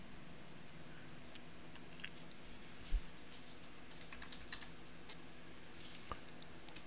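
Company information is typed into an online tax account form on a computer keyboard, with quiet, scattered key clicks in short runs and a couple of louder taps, close and alone without speech.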